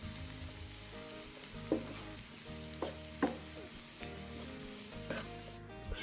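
Vegetables seasoned with black pepper sauté in a pan for white sauce pasta, a steady quiet sizzle punctuated by four or five distinct spatula clacks while being stirred.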